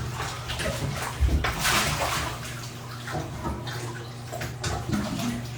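Water sloshes and splashes in a cramped ice bath tub as someone climbs out, a steady close wash of churning water with a few louder surges.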